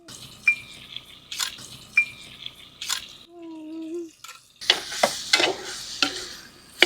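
Cucumber and tomato pieces go into a sizzling pan of chicken curry, with irregular clatters and scrapes of stirring over a soft frying hiss and a brief tonal hum in the middle.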